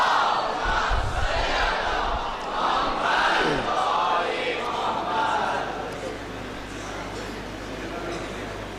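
Large crowd at a religious celebration in a mosque shouting a loud slogan in unison, a swelling roar of many voices that rises and then fades to a low hum.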